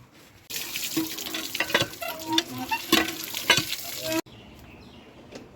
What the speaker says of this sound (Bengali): পিস করা মাছগুলোকে ধুয়ে নিচ্ছি